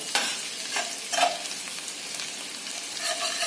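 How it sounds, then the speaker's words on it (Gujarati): Onions frying in a pan for a Surat street-food egg dish, with steady sizzling and several scraping stirs of a utensil, close and clear. "કાંદાને આતે ફ્રાય કરી દેવાના"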